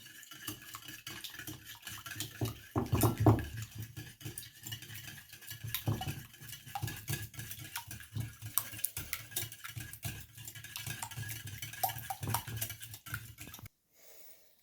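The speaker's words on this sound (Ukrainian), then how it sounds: "Два яйця гарно підбиваю" Two eggs are whisked in a bowl, a quiet, quick, uneven tapping and scraping of utensil against the bowl that runs almost throughout before stopping just before the end.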